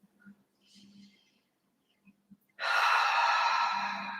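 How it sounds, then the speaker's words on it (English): A person breathes deeply in through the nose and out through the mouth during a yoga session, quiet soft sniffs of inhalation followed by one long, loud, breathy exhale close to the microphone. "Start to breathe deeply in through the nose and out of the mouth."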